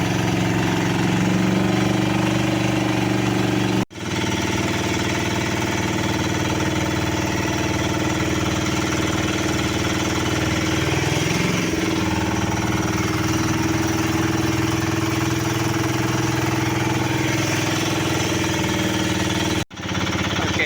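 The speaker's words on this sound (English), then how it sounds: "Tatay Noel, the one who had allowed me to ride into his family's boat today." A motor drones steadily and loudly for the whole stretch, a constant rattling chug with a brief cut-out twice; no voices.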